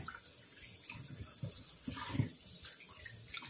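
Tap water runs into a sink while a squash is washed by hand, a soft steady splashing with faint irregular splatters, close and fairly quiet, no talk.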